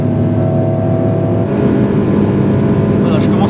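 An Alpine A110S sports car idles along on a cool-down lap, its engine a steady, low rumble close up inside the cabin, with a voice talking over it.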